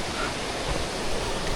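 A rain-swollen waterfall at Munigou's Zhaga falls pours in a steady, dense broadband roar, constant and enveloping with no breaks.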